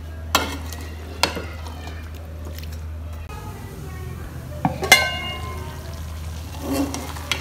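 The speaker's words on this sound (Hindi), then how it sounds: "अच्छी तरह ये फ्राई हो जाएगा 5 से 10 मिनट तक हल्की आंच पे" Mutton frying dry in a pan over low heat with no water added, a steady low sizzle broken by a few sharp spoon scrapes and clinks as it is stirred, with faint background hum.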